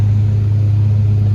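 An old Club Car golf cart engine drones steadily and loudly at close range, a constant low hum with no pauses or voices.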